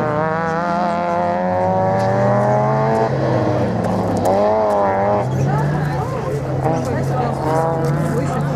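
A race car at a 2024 slalom in Lessay runs with a loud, close engine whose pitch climbs and then drops as it slows, with commentators talking throughout.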